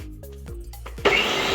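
A food processor mixing flour and salt starts up after a few soft thumps and knocks, then whirs steadily as a loud, bright motor drone close by.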